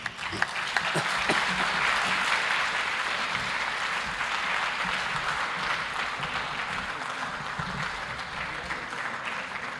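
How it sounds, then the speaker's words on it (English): An audience applauds after Thabo Mbeki's Africa Day lecture, a full, continuous round of clapping from a large hall that stays loud and steady, with a few sharper claps standing out near the start. "let's give His Excellency Thabo Mbeki another big round of applause"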